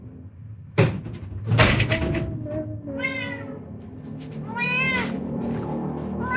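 A talkative cat meowing indoors: a sharp knock or bump, then several drawn-out, rising-and-falling meows close by, the last ones longer and more insistent, with little else around them.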